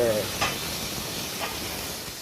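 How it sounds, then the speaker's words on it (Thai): Pumpkin flesh stir-fries in a pan with a steady soft sizzle and hiss, and a couple of brief scraping stirs break through the frying. "ขณะที่เรากำลังผัด"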